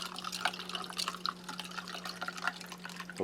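Cold water poured into a glass on a hot day, a close gurgling trickle with bright splashes and drips over a faint steady hum.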